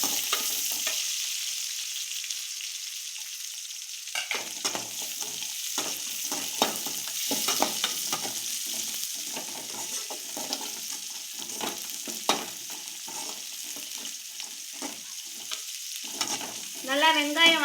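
Onions sauté in a pan with coriander leaves and mint for crab soup, giving a steady sizzle with frequent stirring scrapes and taps. The pan is quieter near the start and a brief voice-like sound comes at the end.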